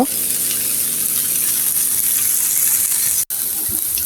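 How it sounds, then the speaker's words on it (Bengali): An egg fries in a hot pan with soy sauce, making a loud, close, unbroken hiss and steamy sizzle. It holds steady for several seconds, broken by one sharp momentary dropout, with no voices. "এখন আমি ভালো করে ডিমটি ভালো করে ভেজে নিব"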